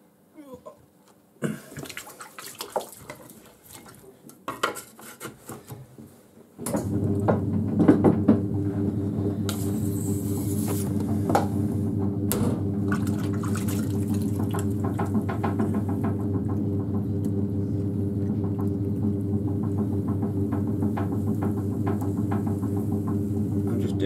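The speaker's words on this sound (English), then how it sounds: "So now I'm going to throw a little pot to make the sort of top." A small clay pot for a pottery lighthouse top is thrown on a spinning pottery wheel: a steady, loud motor hum with a low drone starts about a third of the way in, preceded by quieter handling knocks and bumps.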